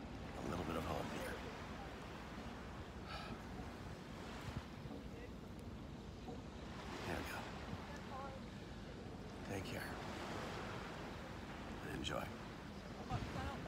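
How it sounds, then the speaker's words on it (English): Ocean surf at Nusa Dua beach in Bali, a continuous roar of breaking waves with heavy wind buffeting the microphone, while a person speaks a few brief words over it. "welcome to the ocean"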